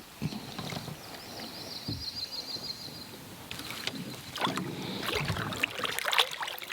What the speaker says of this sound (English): This is how you surf a canoe.